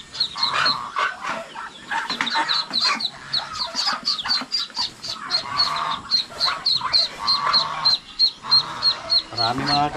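Many newly hatched chicks peep in a constant, rapid chorus of high, close chirps, with a hen and duck nearby and people talking over them.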